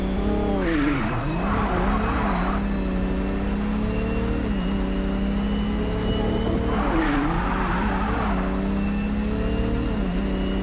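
Engine roar of a car racing in the video game Mindseye, continuous and loud, with two surges of tire screech and skidding as it corners, no talk.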